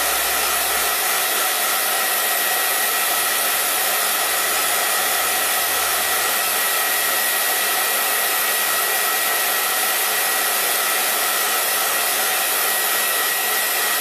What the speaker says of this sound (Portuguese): Seca assim meio de longinho, com um secador não muito quente.